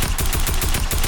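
Rapid automatic gunfire from a new tactical assault rifle in a shooter video game, a dense, loud, continuous burst of evenly spaced shots.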